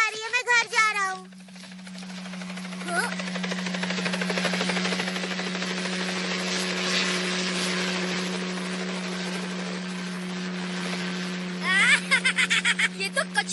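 A cartoon helicopter flies overhead, its steady droning rotor hum filling most of the stretch after a brief bit of talk, with more voices returning at the end.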